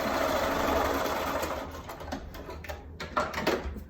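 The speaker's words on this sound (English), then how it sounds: "you're gonna sew a 1/4 inch seam allowance on either side" A sewing machine stitches a quarter-inch seam on quilt squares, giving a steady, close, fairly loud mechanical whir with no talk that eases and turns uneven toward the end.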